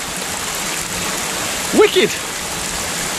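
Cold mountain stream water flowing on a winter trek to Annapurna Base Camp, a steady close rushing hiss throughout, with a brief spoken exclamation over it.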